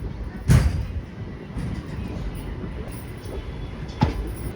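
The Kuvempu Express passenger train pulls into Tarikere station, a low rumble of wheels with sharp clanks near the start and end, heard from close by.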